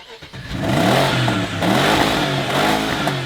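A V8 BMW X5 revs hard and close, its engine note rising and falling in quick, throaty sweeps with a mechanical clatter beneath the roar.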